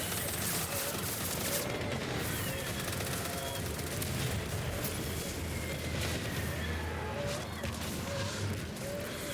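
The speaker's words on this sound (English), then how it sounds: "What are you shooting at?" Rapid gunfire in Death Stranding near a tank, dense bursts and crackling shots layered into a continuous loud barrage with heavy rumbling underneath.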